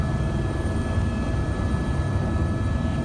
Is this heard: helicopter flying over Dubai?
yes